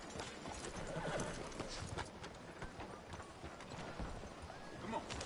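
A horse gallops in the video game Red Dead Redemption 2, rapid rhythmic hoofbeats with a whinny, mixed under game voices and a short speech cue.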